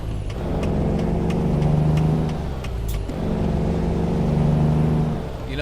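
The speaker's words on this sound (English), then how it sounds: "I actually like the sound of the truck." Kenworth T2000 truck in American Truck Simulator, its diesel engine droning steadily with a low rumble, rising and falling in revs through two gear pulls, close and alone without talk.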